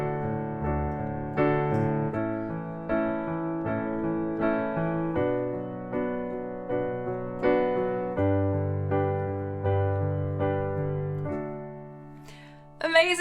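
Solo piano with rolling low arpeggios in the bass under evenly spaced chords on top, played at a calm steady pace, ending on a held note.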